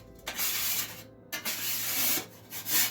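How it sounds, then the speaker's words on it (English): A brand-new plastic Dollar Tree scraper rasps across a pan to lift stuck-on food, in short close rubbing strokes broken by brief pauses. "I'm going to grab a scraper so I can get all that off."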